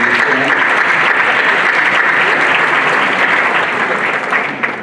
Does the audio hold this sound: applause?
yes